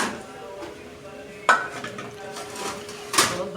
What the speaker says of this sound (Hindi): अब मैं बर्तन धोती हूँ